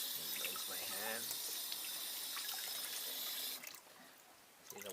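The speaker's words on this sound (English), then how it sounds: "Rinse my hands." Tap water runs steadily into a sink as hands are rinsed after cleaning guavas, then briefly cuts back and resumes near the end, with a voice speaking over the flow.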